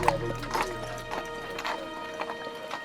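Horse hooves clip-clop in a steady rhythm on Mackinac Island as a horse-drawn carriage moves along, moderately close, with faint background ambience.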